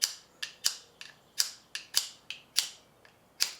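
A fire steel built into the side of a survival shovel is struck about a dozen times in an uneven rhythm, each stroke a sharp, bright scrape close by with no talking.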